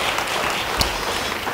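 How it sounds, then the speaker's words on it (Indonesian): A church congregation claps together in an Indonesian worship service, a steady dense wash of hands with one sharper accent partway through, no voices standing out. "beri tepuk tangan bagi dia"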